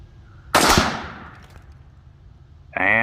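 A single sharp gunshot cracks at an outdoor shooting range, close and loud, its echo trailing off over a second or two before another burst of noise starts at the very end.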